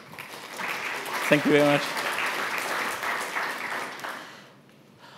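Applause from the audience at a tech talk about running Presto analytics with Alluxio in the cloud, a steady wash of clapping for several seconds that fades toward the end, with a man thanking them over it.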